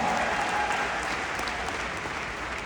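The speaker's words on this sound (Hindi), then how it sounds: "एक बार जोरदार ताली अपनी है।" A crowd of about 2500 people in a seated audience claps together in a dense, even, sustained burst of applause that fills the room and eases slightly toward the end.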